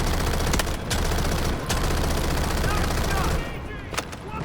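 Automatic fire from a P90 submachine gun in Delta Force, a dense, loud rattle of rapid shots for several seconds, with game noise and talk mixed in before it tapers.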